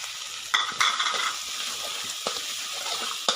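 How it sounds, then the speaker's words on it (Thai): Pounded garlic and spice paste sizzles loudly in a hot pan and is stirred with an ongoing fry hiss. Several distinct scraping clacks from the utensil sound close by. "เราก็มา ผัดเครื่องมันหอมๆนะครับ"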